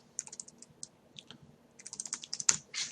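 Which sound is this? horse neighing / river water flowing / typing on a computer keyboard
typing on a computer keyboard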